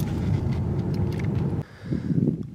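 A 2017 Hyundai Genesis G80 luxury sedan driving fast, its steady low engine and road rumble filling the cabin, dipping briefly before building again, with no talk over it.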